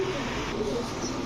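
Pigeons coo softly in a close, low burble, among them a bright red running female pigeon, the cooing quiet and continuous over a short stretch.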